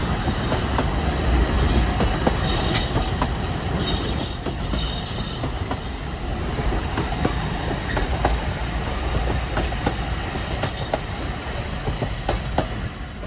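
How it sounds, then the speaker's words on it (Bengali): A small tourist train on a mountain line at Yushan, Taiwan rolls past with loud, continuous wheel rumble, clacking over rail joints and high metallic wheel squeals, steady throughout with no voices. "আর ঠিক তখনই বেরিয়ে এলো ছোট্ট ট্রেনটা"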